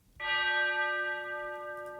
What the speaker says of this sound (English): And then the third layer is these tubular bells,